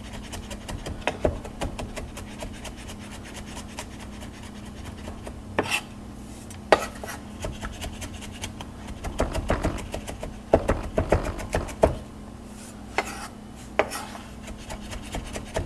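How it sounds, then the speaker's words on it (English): A knife chops ingredients finely on a board: quick, irregular, sharp taps come in clusters over a steady low hum, fairly close and moderately loud, with no talking. "You want this stuff chopped up pretty fine because you want it to kind of break down a whole lot into the oil."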